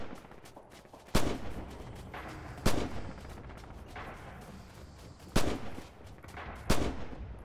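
Gunfire from German infantry weapons such as the MKb.42 and G41 in the WWII shooter Red Orchestra 2, with four sharp, loud shots spaced irregularly a second or more apart over a low battlefield rumble. No one speaks.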